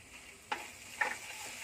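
Spice paste of ground ginger, cumin, onion and coriander with turmeric and salt frying in a pan: a faint steady sizzle with two brief scraping stir strokes, no talking.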